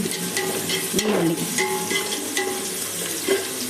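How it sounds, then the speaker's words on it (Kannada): Onions frying in a pan with stirring, a close steady sizzle broken by light scraping and clinks, no talk. "ಈರುಳ್ಳಿ ಪಾಡ್ದು ಎಡ್ಡೆ ಫ್ರೈ ಮಾಡ್ಬೇಕು"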